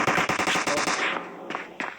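Rapid automatic gunfire sprays in a PUBG Mobile match, a dense burst of shots for about a second followed by two or three separate later shots, fairly loud with no voice over it.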